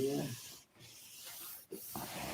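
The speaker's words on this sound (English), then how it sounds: "Good thing I like sanding." An airplane surface is hand sanded with fine grit paper in rasping, back-and-forth strokes, close and fairly quiet, with brief pauses between the passes.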